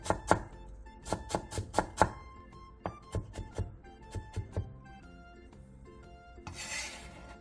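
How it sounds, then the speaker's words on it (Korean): A knife chops thin carrot strips finely on a cutting board, close up: quick bursts of sharp taps in groups of three to five with short pauses between them, then a brief rough scraping at the end. "어슷선 당근 7장을 채 썬 뒤 잘게 잘라주세요"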